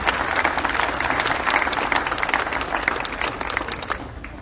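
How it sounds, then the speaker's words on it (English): Sustained applause from a crowd at a Stater Bros. Markets store grand opening and ribbon-cutting ceremony, steady clapping that fades slightly toward the end. "Let's give them a round of applause for their great work in this community."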